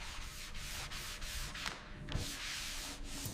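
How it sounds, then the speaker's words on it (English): Hand sanding on the filled body panel of a barn-find Tesla Model Y under restoration: a steady, close scraping and rubbing rasp that pulses with each stroke, with no talking. "Hours of sanding."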